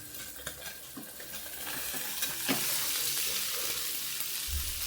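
Mathi fish sizzles and crackles in a frying pan, a steady close hiss broken by stirring clinks and scrapes, with no voices.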